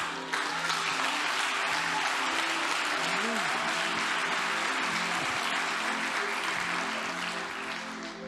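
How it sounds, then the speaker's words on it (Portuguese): A church congregation at a victory worship service applauds the Lord, loud continuous clapping from a large crowd filling the room, with faint voices and a brief sung or shouted note rising beneath it. "você pode aplaudir o Senhor?"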